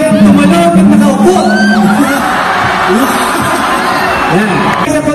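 Concert crowd at a live band festival in Panaad Stadium, Bacolod City, jumping and shouting in a loud sustained roar with whoops, while a voice speaks over it.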